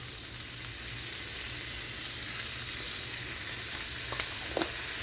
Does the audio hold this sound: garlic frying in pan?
yes